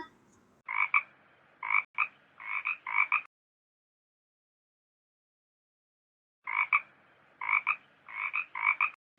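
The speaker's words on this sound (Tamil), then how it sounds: "Frog." Two bursts of loud, rhythmic frog croaks, each a quick series of raspy pulses, separated by several seconds of silence.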